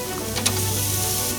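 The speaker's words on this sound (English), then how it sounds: "We're on to our final turn for our pork chops on the gas grill." Thick pork chops sizzling on a gas grill, a steady broad hiss with a low hum underneath and a small tick partway through, close and even throughout.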